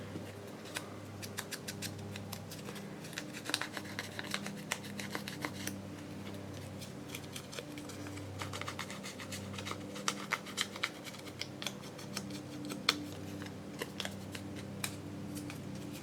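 Scissors cutting fabric for a craft project, a steady run of soft, close snipping and rustling scrapes, quiet and continuous with small clicks scattered throughout.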